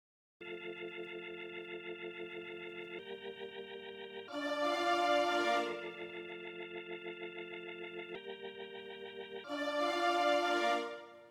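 Held organ chords in an FL Studio beat are joined by a brighter, fuller strings layer that swells in on alternate chords, the pattern repeating twice with a steady pulsing shimmer throughout.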